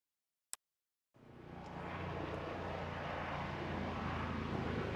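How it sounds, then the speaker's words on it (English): After a single sharp click and a moment of silence, a helicopter over a golf course swells into a steady, broad engine and rotor roar that holds loud and continuous, with no voices. "Is that your helicopter coming in to pick you up for later?"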